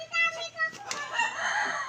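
Chickens in Santo Niño give a brief burst of clucks and a rising crow, close by, with faint voices in the background.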